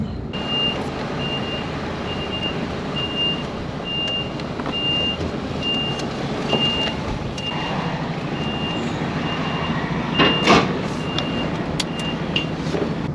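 A truck backs up to hitch a trailer, its reversing alarm beeping in a steady evenly spaced series over a constant idling engine rumble, with a brief hiss-like burst near the end.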